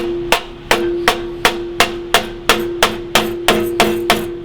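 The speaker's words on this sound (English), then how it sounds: "Rubber hammer" A rubber hammer strikes the metal of a forged whale-shaped weather vane in an even rhythm, about a dozen dull thuds with a ringing metallic tone sustaining between blows.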